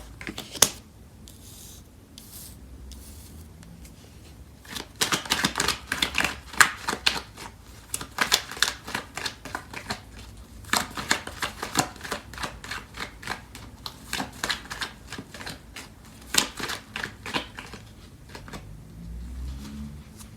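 Tarot cards being shuffled by hand in a quiet room, a run of crisp riffling and flicking bursts that grow busier midway, with no voice over them.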